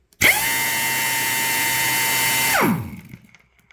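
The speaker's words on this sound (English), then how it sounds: "running 150 psi, hoping to get the most torque out of your wrench" A pneumatic impact wrench runs wide open on 150 psi air, a loud, steady high whine that starts abruptly, holds for over two seconds, then winds down in pitch as it stops, alone with no voices.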